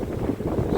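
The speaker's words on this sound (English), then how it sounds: "Sorry about the wind, but it's getting up now." Outdoor wind buffeting a microphone at a hilltop stone fort in Wales, a loud, low, continuous rumble with no voices.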